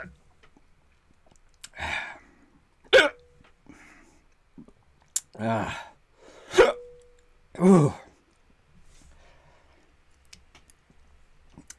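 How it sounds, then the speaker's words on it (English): Several hiccups from a person who has just tasted a chili extract candle, coming as sharp isolated bursts spaced a second or two apart, close and fairly loud, with faint clicks and breaths between them. "Here comes the hiccups."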